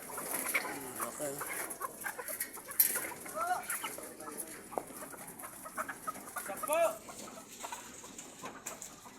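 Chickens cluck and call in scattered bursts around a farmyard, moderately close, mixed with other bird sounds and people talking.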